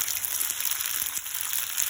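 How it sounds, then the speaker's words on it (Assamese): Boiled pasta, coated in oil with pasta masala, fries and is stirred in a pan, giving a steady close hiss and sizzle with faint scrapes and no talking. "ধুনীয়াকৈ লৰাই দিব যাতে তেলটো গোটেইখিনিতে ধুনীয়াকৈ লাগিব"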